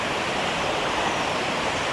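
A waterfall at a camping site pours in a dense, steady roar of rushing water, loud and continuous with no break and no voices.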